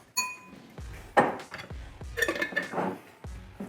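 A utensil mixes boiled egg yolk with mayonnaise in a bowl, giving a run of sharp metallic clinks and taps against the dish in short bursts, with no voices.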